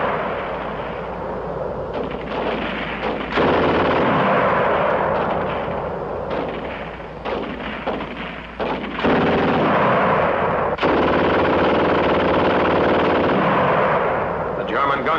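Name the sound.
German machine gun firing rapidly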